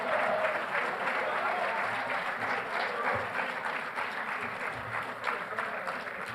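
An awards-night audience applauds the boys winter track team at a winter sports varsity ceremony, a dense and steady wash of many hands clapping that holds evenly for the whole stretch.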